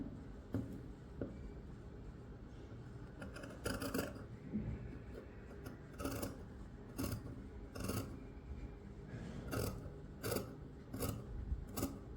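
Scissors snip through fabric along a sweetheart neckline, a steady series of close, crisp cuts with sliding rasps between them and no talking.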